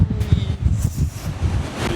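Loud ocean surf pounds below a windy coastal lookout near Albany, with heavy wind buffeting the microphone in gusts and the deep roar of waves filling the whole stretch.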